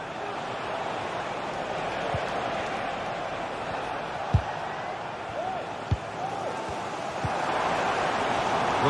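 Stadium crowd atmosphere in a football video game, a steady broad roar of fans with a few sharp thumps standing out, continuous and fairly distant throughout.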